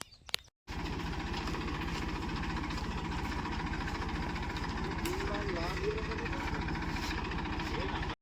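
A tractor engine idles for sowing on a Gujarat village farm, a steady, close, rumbling throb that runs without a break after a brief quiet start.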